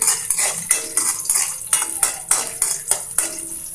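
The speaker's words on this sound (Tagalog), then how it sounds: "Unahin na natin ilagay yung" Ginger hits a home frying pan in a Filipino kitchen while tinola is being started, giving a run of sharp, repeated clinks and scraping taps with a soft hiss underneath, close and fairly loud.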